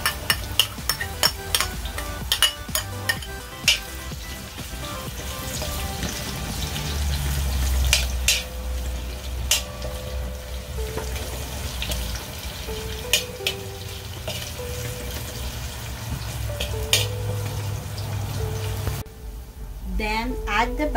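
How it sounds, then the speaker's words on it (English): Onion sautéing in a pan gives a soft sizzle under clattering utensil scrapes and pan knocks, with a voice talking over parts of it and a brief quieter moment near the end. "Add the onion and saute it for 2 minutes."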